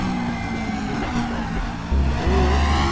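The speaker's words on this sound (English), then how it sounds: "leaving in third gear and just accelerating hard and braking hard" A race car with an F1 engine in RaceRoom Racing Experience accelerates hard, its engine note droning steadily and swelling louder near the end, with a faint tire squeal and no talking.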